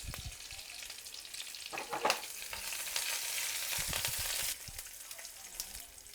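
Curry leaves hit hot oil in a village curry tempering, bursting into a loud spattering sizzle with scraping stirs, the crackle swelling midway then easing off, no one talking.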